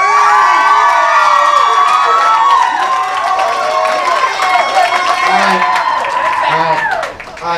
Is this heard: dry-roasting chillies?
no